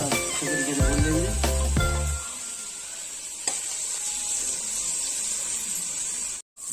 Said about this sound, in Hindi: दोनों को एक साथ अच्छे तरीके से भून लेंगे